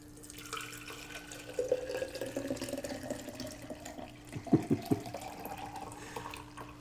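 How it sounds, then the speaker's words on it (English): Celery juice is poured from a container, making a soft, steady liquid trickle with a few brief splashy bursts toward the end, fairly quiet throughout. "So I'm just pouring some celery juice"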